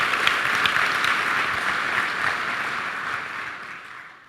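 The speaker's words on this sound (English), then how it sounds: "let's give them a round of applause for consenting to that" Audience applause at a college convocation ceremony, a dense steady wash of many hands clapping that fills the room and slowly tapers toward the end.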